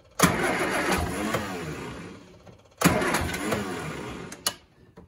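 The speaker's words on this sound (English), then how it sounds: "It's run. It's maybe out of petrol. That could be why it's not firing." A 1973 Bond Bug 700ES engine cranks and catches twice, each time roaring briefly before dying away, loud and close with no talk over it.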